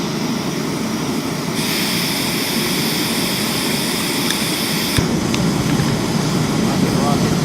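A Pocket Rocket 2 camping stove burns at full flame with a loud, steady roaring hiss that stays constant throughout, close by, with a brief click partway through and someone talking over it.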